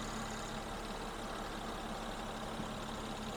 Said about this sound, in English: As you can see, the engine runs very, very nice, very smooth